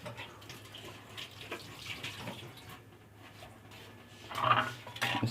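Hands are washed under running tap water in a kitchen during beef kebab preparation. The water runs faintly and steadily with soft splashing that grows a little louder near the end. No voices.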